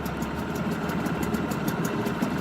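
Nissan 5 hp two-stroke outboard motor running steadily at idle on a test setup with cooling water flowing, a continuous close, even drone with a rattly buzz and no voices over it.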